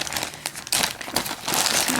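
Plastic packaging crinkles and rustles as replacement 1-inch Aplix hook and loop tape for a BumGenius 4.0 pocket cloth diaper is pulled out, a steady close crackling that swells louder in the second half.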